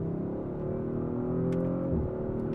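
An Audi RS5's V6 engine drones steadily from inside the car, a close, constant tone that shifts briefly in pitch partway through as the engine speed changes.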